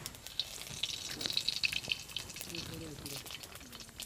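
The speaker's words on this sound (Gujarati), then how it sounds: "હવે એક ચમચી નાખશું આપણે આખું જીરું" Whole cumin seeds crackle and sizzle in hot tempering oil for a Kathiyavadi garlic curry. The frying is moderately loud and close, with light stirring and a faint voice partway through.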